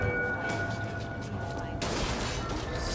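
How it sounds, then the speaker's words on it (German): Gunfire in BioShock Infinite, a steady barrage of loud overlapping shots under a faint tonal hum, with a sharper, brighter burst near the end. "Gut, das war ein Kopfschuss."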